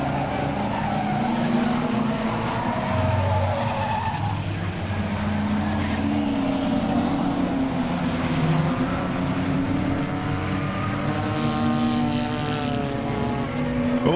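Race cars circle Langley Speedway during an Enduro race at night, a steady wash of engine roar at middle distance with rising and falling pitches as cars pass, continuous throughout.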